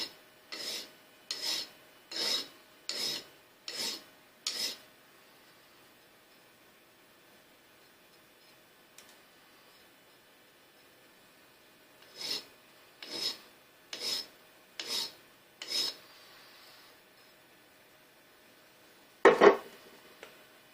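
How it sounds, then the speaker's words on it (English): A smooth hand file rasps across the cut edges of threaded rod, deburring it, in two close bursts of about six steady strokes each, with a quiet pause between and a final clatter. "So next I want to deburr it a little bit, so I've got a smooth file. Just going to go across the edges."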